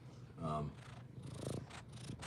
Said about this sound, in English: This is my cat, Midnight.